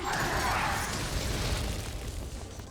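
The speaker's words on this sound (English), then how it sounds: "Don't get too close to that other. You'll get caught in this explosion." A loud explosion in the action game Scarlet Nexus, a broad rumbling burst that rolls on for a few seconds and then slowly tails off.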